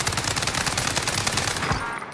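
Rapid automatic gunfire in a shooter video game, a dense continuous burst of shots filling the whole moment, loud and close with no talk over it.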